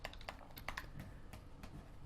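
A computer keyboard clicks under quick, close, quiet keystrokes, about a dozen taps in an irregular burst with no voices.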